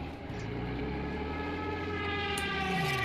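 A bomber plane in Battlefield 5 drones past on the Narvik map, a steady low engine roar with a faint rising pitch, close and continuous throughout with no talk.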